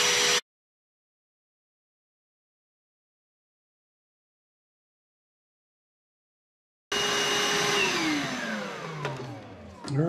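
A wood router guided by a mortise template makes a second, deeper pass after several seconds of silence, a loud steady whine with shifting pitch that fades toward the end.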